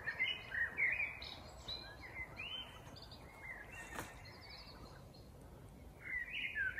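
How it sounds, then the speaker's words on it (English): Several wild birds singing and chirping at a distance in the evening at a bonsai nursery, varied warbling phrases over a soft, quiet background; calm outdoor ambience with no talking. "So this is real bird song."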